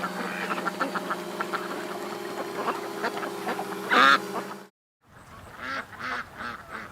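Ducks quack and honk nearby over a constant low mechanical hum, with one louder call standing out; after a short gap, more quacking follows without the hum.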